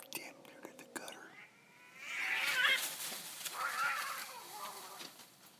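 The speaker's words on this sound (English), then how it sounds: "That cat sounds scared." A frightened cat meows outdoors near a bush by a house, drawn-out wavering cries rising twice over faint whispering and rustling, moderately close.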